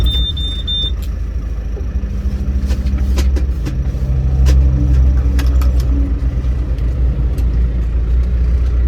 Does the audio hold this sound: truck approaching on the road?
yes